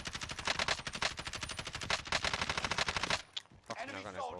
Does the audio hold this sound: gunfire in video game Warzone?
yes